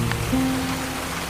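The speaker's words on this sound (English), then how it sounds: "Should we get out of the rain, guys? It's absolutely pouring." Heavy rain pours down outdoors in El Salvador, a steady dense hiss of drops hitting surfaces with a faint low tone running beneath it.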